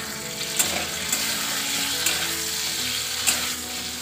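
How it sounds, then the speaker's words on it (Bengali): Potatoes frying in a pan, a steady close sizzle with a few faint sharp clicks now and then, no voices. "আর এখানে আলুগুলো ভাজা হচ্ছে।"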